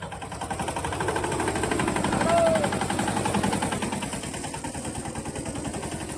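A tractor engine runs steadily with a rhythmic, pulsing low chug, close and continuous, swelling slightly midway as it passes on a village road behind a Bolero.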